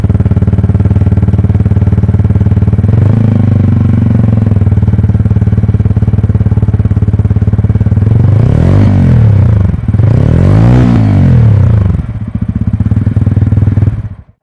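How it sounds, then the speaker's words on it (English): A TVS Ronin 225 motorcycle's bassy exhaust idles steadily up close, then two sharp throttle blips rise and fall before it settles and cuts off. "why not listen the exhaust sound of the bike, because that is quite bassy"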